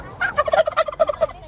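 A domestic turkey gobbles in a rapid, warbling burst of throaty notes lasting over a second, loud and close with no talking.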